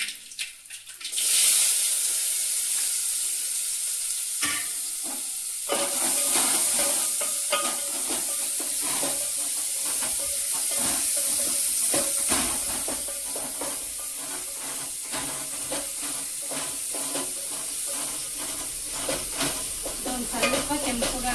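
Dried red chillies and mustard seeds frying in hot oil, a continuous loud sizzle peppered with rapid crackling pops and spattering, with occasional stirring clatter, close up and without talk.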